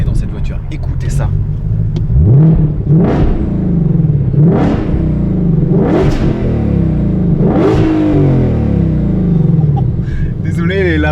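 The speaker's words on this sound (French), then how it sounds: "pour moi, tout est à propos de la sonorité dans cette voiture. Écoutez ça." Ford Mustang Shelby GT500 with a manual gearbox revving hard, about five loud, rising engine sweeps that each fall back before the next, deep and close with a rumbling undertone.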